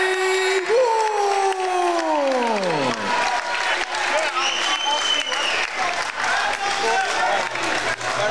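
A crowd applauds at an amateur fight night after a split-decision result, with the steady clapping running under a loud announcer's voice and a falling tone at the start.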